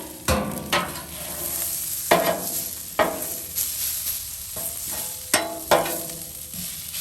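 Vegetables sizzling and frying on a hot Blackstone griddle with a little olive oil, a steady close hiss broken by sharp scraping strokes of a spatula every second or so.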